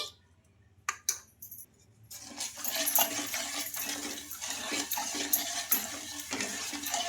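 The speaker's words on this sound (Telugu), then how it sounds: "హాఫ్ కప్పు షుగర్ వేసుకున్నాం కాబట్టి హాఫ్ కప్పు వాటర్ అయితే వేసుకోవాలి" Half a cup of water is poured onto half a cup of sugar in a kadai. A few light metallic clinks come first, then a steady splashing pour runs close and fairly loud until the end.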